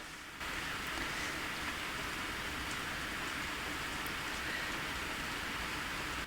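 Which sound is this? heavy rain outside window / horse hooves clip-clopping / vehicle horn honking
heavy rain outside window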